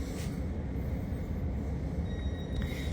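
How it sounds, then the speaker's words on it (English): Steady low rumble of a moving train heard from inside a carriage, constant and fairly loud, with faint high squeals and a brief clank near the end; no talking. "Yeah guys, I thought why not do a live on a train, because Jasmine's a train, innit?"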